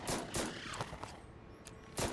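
Gunshots in Class of Heroes 3, several short sharp cracks spaced irregularly, fairly quiet with a low background hum and no voices.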